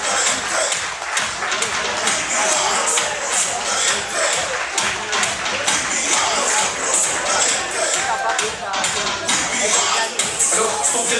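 Lively crowd noise at an outdoor fashion show in Saint-Denis as models return to the runway, with a continuous busy wash of clapping and cheering voices throughout, mixed with talk and shuffling movement.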